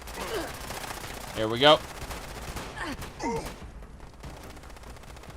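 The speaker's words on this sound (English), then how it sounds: "This is my close-up shotgun versus the long-distance shotgun." Shotgun blasts ring out in a sandbox video game, a few sharp bursts spaced apart over a low background. A person talks briefly amid the shots.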